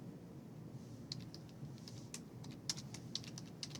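Typing on a computer keyboard produces a quiet, irregular flurry of light key clicks over a low room hum, with no talk.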